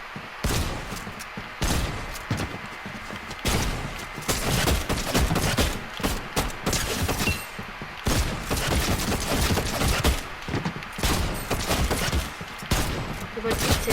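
Dense, nonstop Fortnite gunfire from aim training on a practice map, with rapid shots and thuds packed together loudly across the whole stretch and no pauses.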